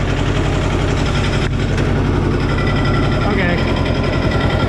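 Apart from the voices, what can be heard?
Cub Cadet 128 diesel tractor engine running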